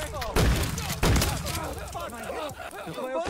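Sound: gunshots in a video game (Nextbot game)

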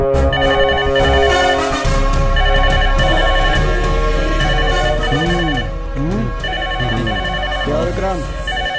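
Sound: phone ringing

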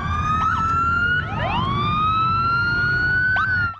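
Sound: police car sirens in procession

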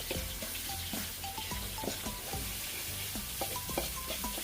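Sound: ingredients stir-frying in oil for a sauce

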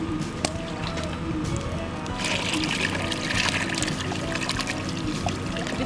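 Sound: water being poured into a cooking pot of beans

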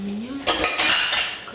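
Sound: metal pot lid and cookware clattering

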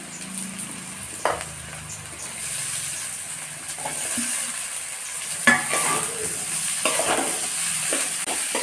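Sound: potatoes frying and being stirred in pan

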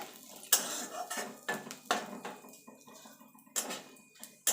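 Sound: frying bay leaf, dried chilli and cumin tempering in oil

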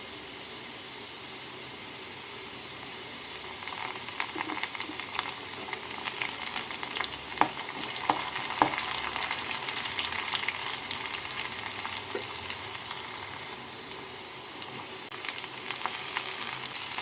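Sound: frying chopped garlic and onion with potatoes

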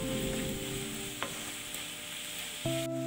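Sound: frying and stirring spice powders for egg curry

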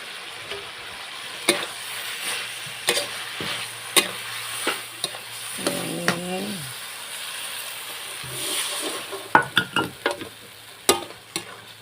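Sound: shrimp stir-frying with holy basil in a pan

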